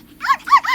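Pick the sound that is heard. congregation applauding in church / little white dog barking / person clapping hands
little white dog barking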